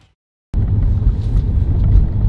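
A 2018 Tesla Model 3 Performance driving, a steady low rumble of tyres and road noise that begins abruptly after a short silence and holds constant and close.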